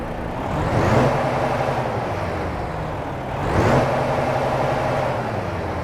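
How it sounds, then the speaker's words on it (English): Mack Pinnacle truck from American Truck Simulator idling loudly with a steady low diesel rumble, two swells of rising engine noise about three seconds apart, with no talking. "let's go ahead and start up this Mack Pinnacle and listen to its engine."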